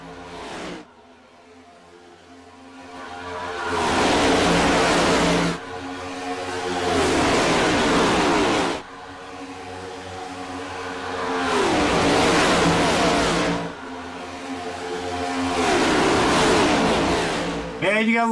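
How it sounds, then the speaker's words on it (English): Race cars at Echo Park Speedway in Atlanta roar past in repeated waves, each engine rising to a loud revving scream and then fading, about five passes with little gap between them. "you gotta love the sound of those engines as they go cursing by on the track"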